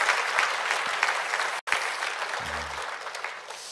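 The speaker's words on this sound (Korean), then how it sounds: "우리 다시 한번 큰 박수로 한번 격려해 주시길 바랍니다." A church congregation at a Baptist worship service applauds, a dense, sustained burst of many hands clapping that cuts out for an instant and resumes, with a faint low voice briefly underneath.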